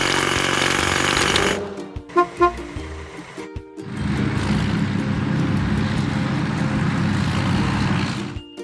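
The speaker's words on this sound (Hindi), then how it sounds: "हाइड्रोलिक हथौड़ा।" Hydraulic hammer pounding and breaking stone: a sustained dense rattling burst, then a pause with a few clanks and knocks, then a second long loud hammering run to the end.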